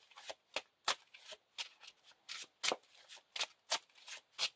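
Cards riffled and snapped in a steady series of short, crisp bursts, about a dozen quick shuffles close up of a Lord of the Rings card game deck, with no voices.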